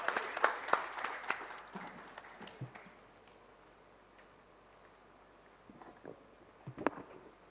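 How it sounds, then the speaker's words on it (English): Applause from a conference audience at a healthcare summit in India, a dense burst of clapping that fades out over several seconds, then a few scattered claps and a brief renewed flurry near the end. "huge round of applause for Dr."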